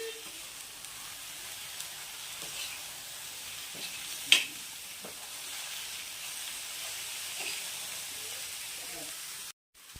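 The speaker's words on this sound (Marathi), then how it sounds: "हे मेथी आता सॉफ्ट झाली पाहिजे त्याला अशीच फिरवून घ्यायची आहे" Fenugreek (methi) leaves being stirred and sautéed in a pan for a rustic Maharashtrian winter methi bhaji, a low steady sizzle with occasional soft spatula scrapes and one sharper clink, then a brief cut to silence near the end.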